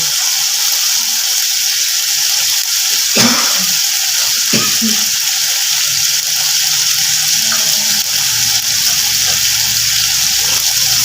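Turmeric powder is added to hot oil, which gives a steady, loud sizzling hiss throughout with a couple of brief clinks near the start and no talking.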